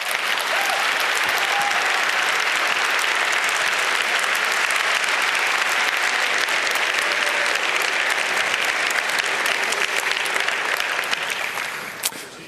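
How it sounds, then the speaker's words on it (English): Loud, sustained applause from a large conference audience greeting the keynote speaker at the 29C3 hacker congress, a dense steady roar of clapping filling the whole stretch without any talk. "A loud applause,"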